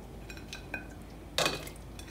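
Chopped carrots tumble into a big cooking pot for abgoosht, giving a few soft knocks and then one brief louder clatter against the metal, with no talking.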